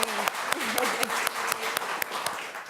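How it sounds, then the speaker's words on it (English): An audience at a foster care summit in Oregon applauds, with a dense patter of hand claps and a few sharp individual claps standing out, plus a faint voice underneath. "Let's give Brooke a hand."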